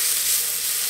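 Crushed garlic, about five cloves, sizzles in hot olive oil in a pan, a steady close hiss with no talking.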